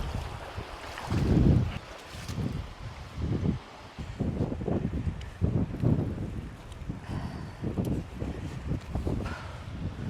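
Strong, cold wind buffeting the microphone in heavy rumbling gusts on an outdoor hike, with a rushing outdoor hiss throughout.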